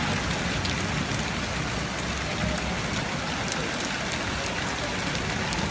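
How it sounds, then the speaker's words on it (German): Extremely heavy rain pouring during a thunderstorm in Cologne, a dense, loud, unbroken hiss and splatter filling every moment without any voices. "Unnormaler Regen."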